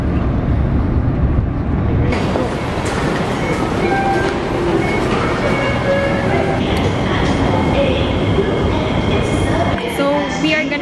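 A train ride in Singapore: a loud continuous rumble of the carriage with squealing wheels and high screeching tones, while a person talks over the noise.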